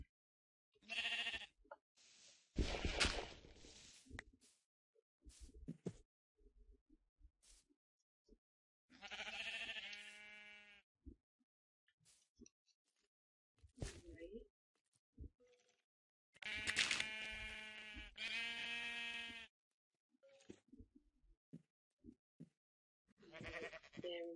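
Repeated Minecraft sheep bleats, loud and nearby, arrive in uneven bursts separated by short gaps, with quiet clicks and faint buzzing game sounds between them.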